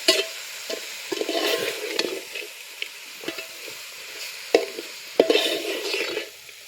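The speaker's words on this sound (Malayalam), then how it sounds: "എല്ലാം കൂടി ഒന്ന് ഇളക്കി വെപ്പിക്കാം" Curry being stirred in a pan after rock salt goes in, a spoon scraping and clacking in irregular strokes over a steady sizzle, with several sharp knocks against the pan.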